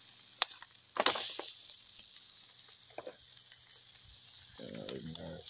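Burgers sizzle on an outdoor grill, a faint steady crackle broken by a few sharp pops and a sharper burst as a patty is flipped, with a short low scraping rumble near the end.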